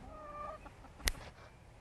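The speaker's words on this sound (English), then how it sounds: "The chickens are hilarious." Chickens cluck softly in a short burst, near and alone, followed by one sharp loud click or knock.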